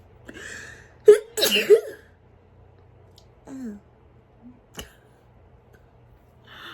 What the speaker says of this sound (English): Oh, I had to sneeze.